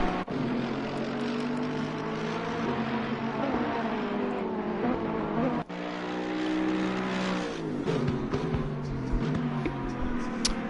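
Ferrari race cars in a sim racing game wind through Suzuka's S curves on a wet track, loud engine notes rising and falling as they shift and brake, with one brief sharp cut midway.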